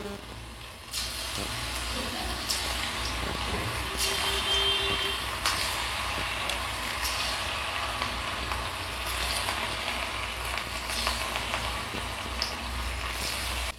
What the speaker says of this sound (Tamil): இப்போ நம்ம வறுத்து எடுத்துக்கலாம். எண்ணெய் காய வச்சு எடுத்து வச்சுருக்கேன்.